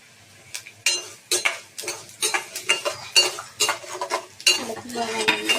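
A spoon scrapes and clatters in a pan of coriander seeds and cumin as they dry-roast, the seeds hissing and rattling. The strokes come in quick, irregular bursts, close and loud.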